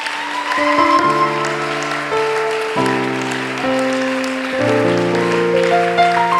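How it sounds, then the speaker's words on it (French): A church congregation applauds and cheers for the Lord, a dense, loud and steady burst of clapping and voices. Sustained instrumental tones run underneath throughout. "Est-ce que tu peux acclamer le Seigneur Jésus?"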